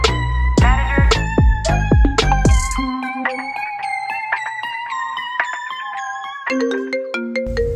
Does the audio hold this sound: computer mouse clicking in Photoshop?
no